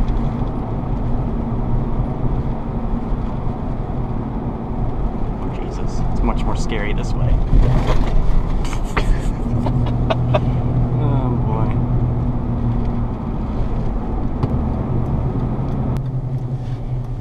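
A 2007 Ford Ranger FX4 Level II pickup drives a bumpy back road, its steady engine and road rumble running throughout with occasional rattles and knocks, while people talk over it.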